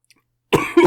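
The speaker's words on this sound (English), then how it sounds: "I so apologize for the coughing." A woman coughs twice in quick succession, loud and close, after a brief silence.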